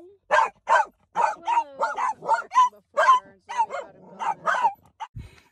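Great Pyrenees puppies bark and yip in a rapid, uneven string of close, high-pitched calls with short gaps, some whimpering tones mixed in.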